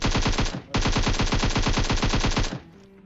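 Rapid automatic gunfire from a PUBG-style shooter video game rattles out in two long, loud bursts of evenly spaced shots. A short gap separates the bursts, and the second one ends in a fading tail.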